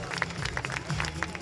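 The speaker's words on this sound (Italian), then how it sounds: "Mi fate un applauso ad Emanuele?" Audience applause at the Ficarolo Talent Show 2022 for a performer named Emanuele, a steady wash of clapping from a crowd with some voices mixed in, brief and fairly quiet.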